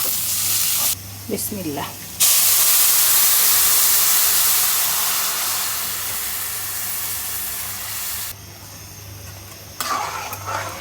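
Ginger and garlic paste fries in a pan for a Friday pulao, giving a loud, steady sizzling hiss that swells after a brief spoken blessing and continues with some scraping, short speech near the end.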